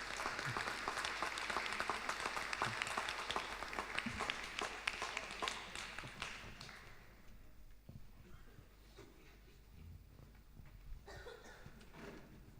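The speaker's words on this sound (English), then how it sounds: "Let us give him a big round of applause." Applause from a congregation at an Easter Sunday Mass, clapping loud and dense for the first seven seconds, then thinning and fading into quiet room noise with a brief faint swell near the end.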